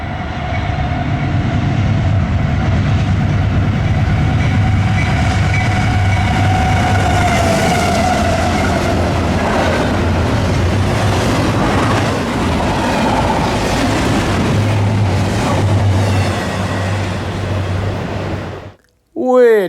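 Freight train NS22M runs on the Chicago Line with a loud, continuous rumble of rolling wheels and rail noise, close and sustained for most of the stretch, with faint squealing and a short windy burst at the end.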